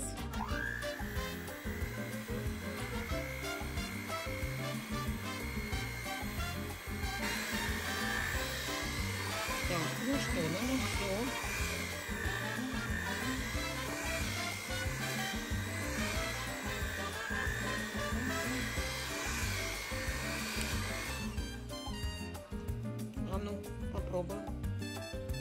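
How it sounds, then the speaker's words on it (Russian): An electric hand mixer whips cake batter with egg in a home kitchen, giving a continuous buzzing whir close by that holds steady and shifts slightly in pitch, with background noise under it. "сейчас берем миксер и взбиваем"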